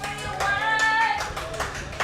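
Cricket crowd applauding a good delivery from bowler Warren Harding, a steady spread of clapping hands across the stands, broad and continuous for about two seconds with brief tonal whistles or calls above it.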